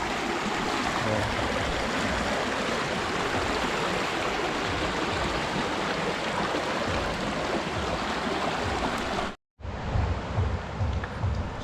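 A provincial river rushes steadily in a broad, even wash of flowing water, close and constant, with a brief cut near the end before it resumes.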